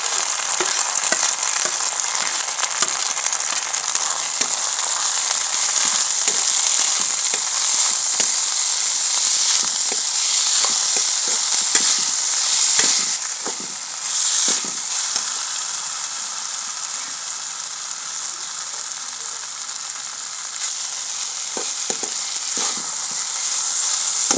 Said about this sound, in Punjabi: ਹੁਣ ਆਪਾਂ ਆਲੂ ਕੱਦੂਕਸ ਕੀਤਾ ਪਾਵਾਂਗੇ